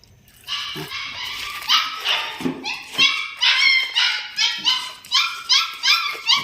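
Several restless, hungry puppies yip and bark in quick, high-pitched bursts. After a whimpering start, the barks come in a fairly regular rapid series, close and loud.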